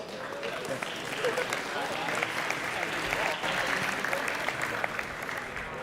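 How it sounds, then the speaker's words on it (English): Applause from an audience at a university robotics club's sumobot finals, a steady, dense crowd clapping that carries on evenly for several seconds, with voices faintly mixed in. "could we all give both teams a great round of applause?"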